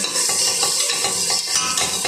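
Food sautéing in a pan, a bright continuous sizzle with scraping stirs and light clinks of utensil against the pan, close and steady.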